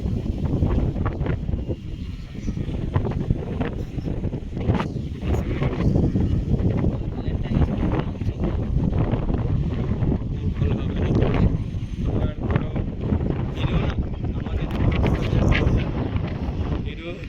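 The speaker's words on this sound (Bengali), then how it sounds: "এই ঝড় বাতাস চলছে।" Stormy wind blowing across a hotel rooftop in Bhubaneswar, a loud, continuous roar and buffeting against the microphone with gusty surges, while people talk over it.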